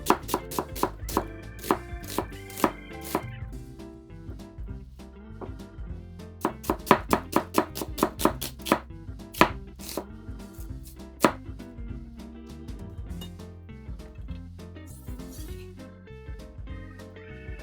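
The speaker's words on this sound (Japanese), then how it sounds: "玉ねぎは千切りに。" Knife julienning half an onion on a cutting board, rapid sharp chops in quick bursts with brief pauses between them, close and clear, tapering into softer, sparser cuts near the end.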